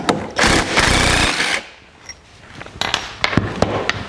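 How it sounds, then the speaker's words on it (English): Metallic clicks and scraping from a wrench on a Honda EU3000iS generator as a stud is removed, with a dense burst of rattling followed by sparse sharp ticks and taps, close and moderately loud. "To help take it out, we're going to remove this stud."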